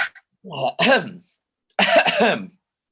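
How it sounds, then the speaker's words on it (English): Two harsh, throaty coughs come in separate bursts, loud and close, with a short silence between them. "Oh, don't cough"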